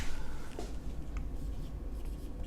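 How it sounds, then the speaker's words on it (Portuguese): A pen or marker moves across a writing surface in a short, continuous scratch, quiet and close over a low steady background hum. "vou escrever aqui do lado de cá."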